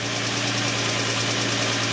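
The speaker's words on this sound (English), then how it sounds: "No rough idle, no shaking of engine." A 2004 Infiniti FX35 engine idling after a rough-idle fix: a steady, even, continuous hum with no shaking or stumbles, close and alone without any voices.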